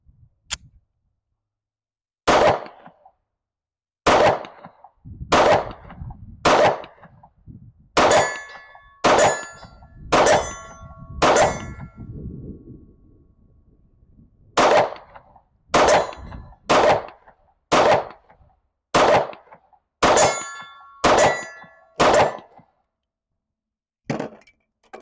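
Pistol shots ring off steel targets in a steady string of about seventeen sharp, metallic clangs, each a loud crack with a bright ringing tail, spaced a second or so apart with a brief pause near the end.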